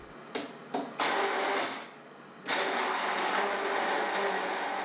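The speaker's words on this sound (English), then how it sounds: "Mix it in a blender for a few seconds." A kitchen blender whirs while mixing chopped aubergine cubes in water, starting with two short pulses and then running in two longer steady bursts, fairly close and clear.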